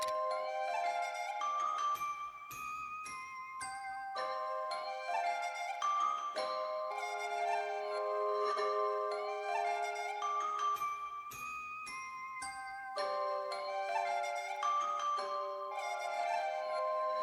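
A simple bell melody made in FL Studio for a drum bounce pattern rings in bright, chiming notes that repeat in a steady loop. No drums stand out clearly.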